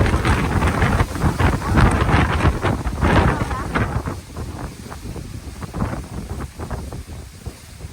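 Strong storm wind in New Zealand roars and buffets steadily throughout, loud and gusty, with a blustery outdoor rush that swells and eases slightly over time.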